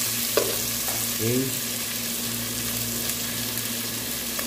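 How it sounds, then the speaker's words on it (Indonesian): Onion, tomato and garlic sautéing together in a pan, a steady soft frying sizzle with a few stirring scrapes near the start and a steady hum beneath; a voice briefly speaks once. "Gigisa na po natin yung ano. Sibuyas, kamatis, bawang, magkakasama na."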